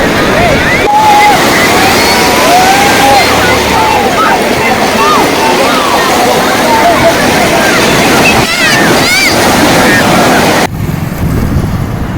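Sea waves at Perupalem beach in West Godavari, Andhra Pradesh, rolling and washing continuously as a loud broadband surf roar with people talking over it, then cutting off near the end.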